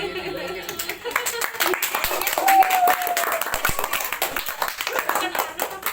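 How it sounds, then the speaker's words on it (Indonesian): Audience clapping at a children's ludruk theatre podcast event in Lumajang, a steady patter of hands under continuous talking, with brief whoops rising over the crowd. "Aduh, kita tepuk tangan dulu."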